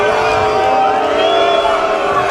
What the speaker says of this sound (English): The Wynwood crowd doesn't like it.